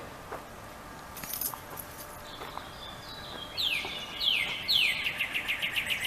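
Bird chirping outdoors, scattered high chirps building into a run of loud repeated sweeping calls near the end, amid light jangling and background noise.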